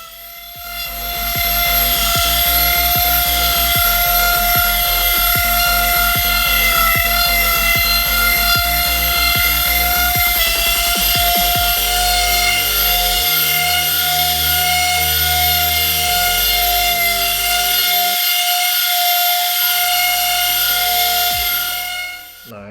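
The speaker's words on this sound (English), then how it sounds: "now it's time to move on to sanding." A loud, continuous machine whine with rhythmic pulsing, a power sander running steadily on wooden floating shelves, with shifts in pitch as pressure changes.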